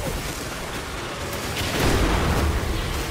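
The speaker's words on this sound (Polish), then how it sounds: "Coś wybuchło." A deep, rumbling explosion boom in Destiny 2 swells up partway through and rolls on under dense background noise.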